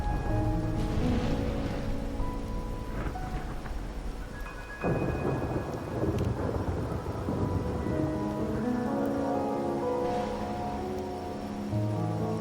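Steady heavy rain pours alongside rolling rumbles of thunder in the game Wuthering Waves, a dense continuous downpour with booming swells, played alone without any voices.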